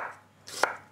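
A kitchen knife slicing fennel as thinly as possible on a cutting board, one crisp, close chop landing alone amid quiet.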